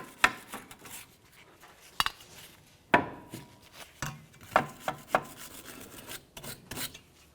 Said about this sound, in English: We're just going to use a little brake clean, just a quick scrub with a wire brush.